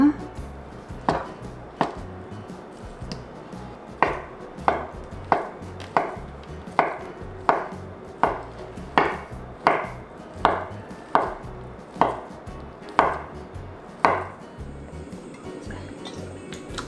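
A knife chops a 340 g block of Spam on a cutting board in a steady series of sharp, close thuds. The cuts come roughly once a second, with a short pause early on, and there is no talk.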